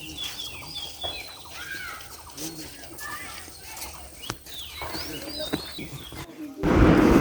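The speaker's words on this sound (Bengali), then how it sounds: "পাখি ডাকতেছে" Scattered bird chirps and calls ring out in the Malnicherra tea garden in Sylhet, fairly distant and intermittent over outdoor background noise, before a louder rush of handling or wind noise at the end.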